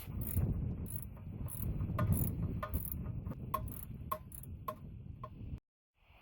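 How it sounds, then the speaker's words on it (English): Ratcheting wrench work on front strut bolts of a truck during a 2-inch spacer lift install, a steady run of rapid clicking pawl strokes with metallic ticks, close and fairly loud, ending in a brief silence. "Okay, now we can remove those strut bolts."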